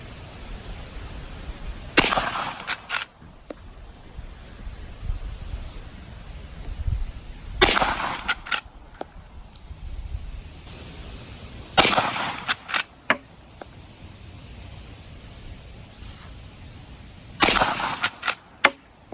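A Winchester 1873 lever-action rifle fires Magtech .44-40 cartridges at an outdoor range, four sharp loud reports spaced several seconds apart, each followed by brief mechanical clacks of the action.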